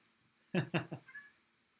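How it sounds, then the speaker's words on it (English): A house cat lets out a short run of three or four close meows, loud and clear against a quiet room, fading into a soft trailing mew. "I got a cat."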